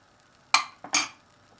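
Two short scraping strokes of a spoon spreading and smoothing a savoury filling in a baking dish, close and fairly loud, alone.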